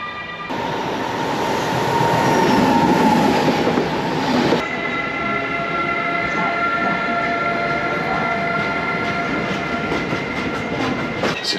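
A train locomotive pulls into Alton station, its loud steady rumble and rail noise filling the platform before easing into a lower, continuous hum with faint rhythmic clatter.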